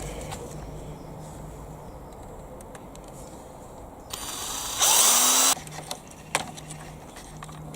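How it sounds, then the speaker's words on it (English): A 3mm bit drills through plastic moulding on a toy van, a short loud high burst of a few seconds standing alone between quieter mechanical ticks and clicks. "I'm just going to go through the 3mm drill bit."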